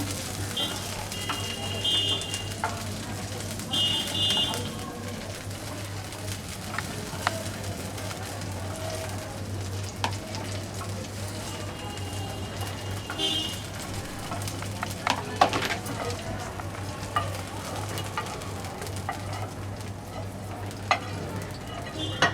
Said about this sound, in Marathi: मिरच्या परतून झाल्या आहेत त्या आपण काढून घेऊया